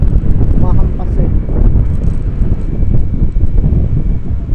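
Strong gusty wind buffeting the microphone while riding in rainy weather, a heavy close low rumble and roar throughout, with voices talking over it.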